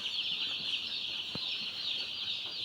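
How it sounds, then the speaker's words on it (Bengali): Many chickens cluck softly in the background of a poultry farm housing about 3,000 birds, over a steady high-pitched hum, with one sharp knock standing out. "এটা দেখতে পাচ্ছেন একটা খামার মুরগির। এখানে 3000 মুরগি পালন করা হয়।"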